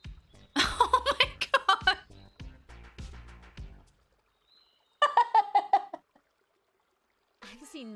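A caffeinated pigeon in the Espresso Tycoon video game gives off loud, rapid, gobbling coos and squawks in two bursts, followed by a faint chirp near the end.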